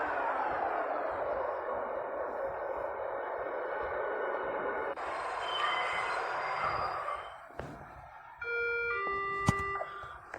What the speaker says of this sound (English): this train is a lot more futuristic, it is a lot faster